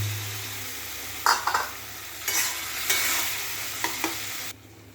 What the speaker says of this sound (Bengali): এবার আমি সেদ্ধ করা পেঁপের আলুটা দিয়ে দিলাম।